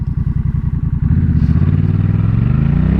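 Honda Rebel 1100 DCT motorcycle in manual mode, engine note pulsing with distinct gear changes: a choppy, uneven rumble at first, then a jump into a steadier, rising drone as revs climb, close and loud.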